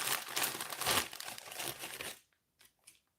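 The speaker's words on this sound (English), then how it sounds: "You're going to hear some rustling." Plastic packaging around wargaming miniatures, including British Airborne pieces, crinkles and tears close by for about two seconds, followed by near silence broken by two faint brief crackles.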